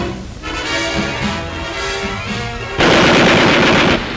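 Machine gun fire during WWII naval aviation gunnery training, a loud sustained rattle with no gaps between shots that swells into a harsher, denser burst near the end.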